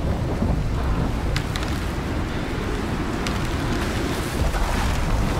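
Stormy weather in the survival game Icarus, with steady heavy rain and deep rolling rumbles of thunder filling the scene throughout, loud and continuous with a few sharper crackles.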